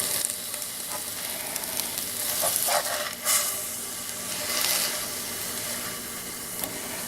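An egg frying in a pan, a continuous close sizzle with a few spatula scrapes and taps as it is flipped over, no talking.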